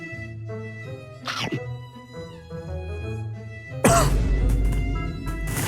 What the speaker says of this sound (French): Pourquoi t'as toussé?